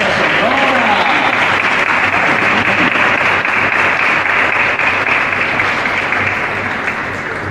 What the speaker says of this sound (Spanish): Un fuerte aplauso para esta señora.